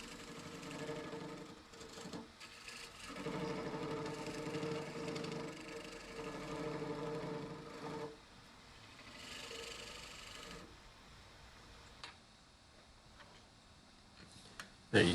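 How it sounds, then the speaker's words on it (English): A skew chisel cuts along the edge of a spinning wooden bowl on a lathe, giving a steady whirring hum with a scraping texture that drops away and returns, with a few sharp clicks near the end. "I'll take my skew here and just clean that edge right up there"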